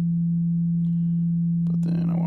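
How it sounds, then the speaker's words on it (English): The Moog Model 15 synthesizer app on an iPad holds a steady, pure sine wave tone throughout, with a faint brief chirp and a short burst of noise near the end. "I need to run it to a sine wave."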